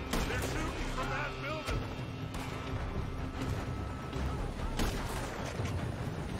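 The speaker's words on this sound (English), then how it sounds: "Shooting from every building, Dutch." Dense gunfire in Red Dead Redemption 2 as shots ring out from every building in a town shootout, a continuous loud clatter of overlapping reports with a few sharper cracks standing out.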